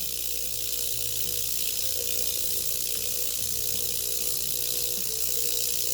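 A rock tumbler turning with tumbling media and water gives off a steady, even churning hum with a soft high hiss. It runs continuously at a constant level with no voices.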